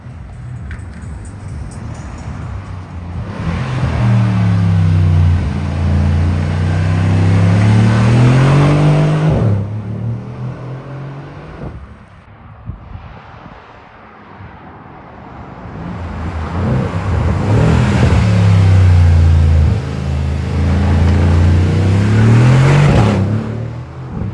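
A Mercedes GLC Brabus 600 SUV engine revs hard twice, each rise and fall long and loud and close, with a quieter idle between; individual exhaust pops are not clearly distinguishable.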